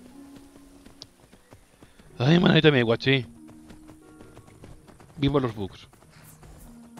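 Horse hooves clip-clop at a steady walking pace in the video game Skyrim, running low and constant beneath two bursts of someone talking.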